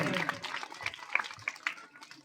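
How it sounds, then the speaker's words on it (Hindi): At a rural school's annual function, an outdoor audience gives light, scattered clapping, fairly faint and short, with a voice speaking alongside. "सभी एक बार जोरदार तालियां बजाते रहें"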